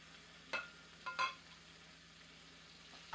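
Shrimp fry in a skillet with a low steady sizzle, broken by a few brief scraping bursts as the pieces are stirred and moved around.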